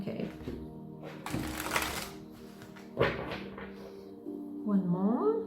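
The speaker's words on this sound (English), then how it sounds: "I need to shuffle all of this first." Tarot cards are shuffled by hand in a few short papery bursts of riffling and slapping, close by, with a person talking in between the shuffles.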